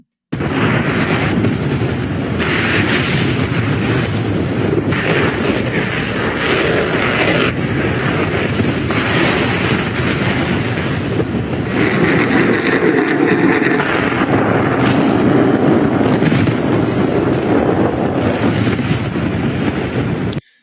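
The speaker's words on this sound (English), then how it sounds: "And then the 3 missiles hit the carrier." Missiles striking a naval aircraft carrier: a loud, sustained roar of blasts and rumbling fills the whole stretch, with bursts swelling and falling repeatedly and no clear pauses or voices.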